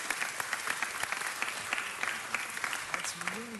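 A city council meeting audience keeps up steady applause, a thick continuous clatter of hands with a person talking over it.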